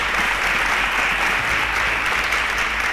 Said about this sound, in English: A round of applause for Ryby.